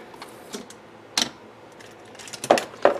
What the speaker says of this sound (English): I'm going to use these scissors instead of my favorite Tim Holtz scissors.